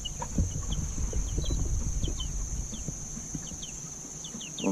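Four-week-old Freedom Ranger chicks give soft clucks and short peeping calls while handled on a farm, scattered chirps over low rustling and handling noise, close by, with a constant high tone in the background.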